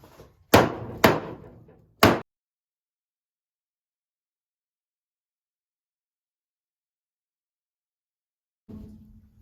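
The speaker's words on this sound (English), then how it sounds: "we'll give a little bit of persuasion with the hammer" Three sharp metallic hammer blows on the deer-damaged hood of a high-mileage Toyota Yaris ring out in quick succession, followed by a long silence and a faint low clunk at the end.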